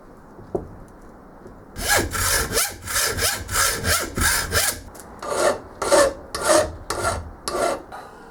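A hand file rasps across the top of a metal lathe compound slide held in a vise, with a dozen or so loud, close, rhythmic strokes following a brief pause.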